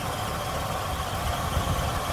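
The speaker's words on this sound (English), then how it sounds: "Smooth running engine." The 6.6-liter V8 of a 1979 Lincoln Town Car idles steadily with a smooth, even rumble and no revving, heard up close without voices.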